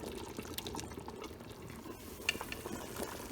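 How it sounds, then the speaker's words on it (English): Red palm oil heating in a pot as the base for Nigerian egusi soup with bitterleaf, giving a soft continuous sizzle with faint stirring clinks and scrapes, steady and close, with no talk. "You add your red oil, allow it to cook for maybe a minute."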